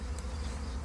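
A large swarm of honey bees hums steadily at a hive, a dense, continuous close-up drone with no voices over it.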